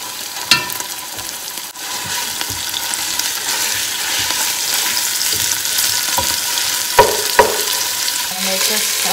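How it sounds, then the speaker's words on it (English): Ground beef for homemade tacos sizzles steadily in a pan while being stirred, a continuous frying hiss broken by a few sharp scrapes and clicks of the utensil against the pan. "Mix na natin yung ground beef natin."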